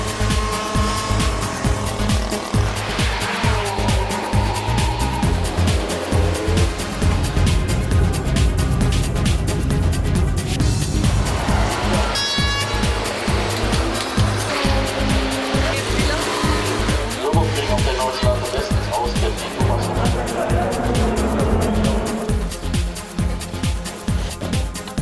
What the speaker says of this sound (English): And the cars just don't stop coming.